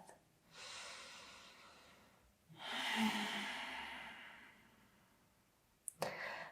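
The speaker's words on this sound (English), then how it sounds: "Deep breath." Two long, deep breaths during a gentle yoga session, each a broad airy exhale lasting a couple of seconds, close and quiet, followed by a brief click and rustle.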